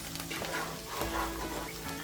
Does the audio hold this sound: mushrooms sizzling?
yes